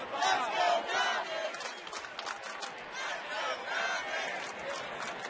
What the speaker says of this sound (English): A double by Marlon Byrd gave the fans out here something to cheer about